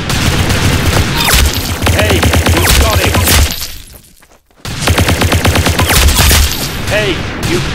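Rapid bursts of loud gunfire from the Roblox game Arsenal, dense volleys of shots with a brief lull midway before firing resumes.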